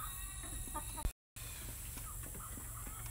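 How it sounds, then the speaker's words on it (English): Several chickens cluck and murmur close by, with short calls scattered throughout and a brief dropout in the middle. "I want you to look at this mess of chickens."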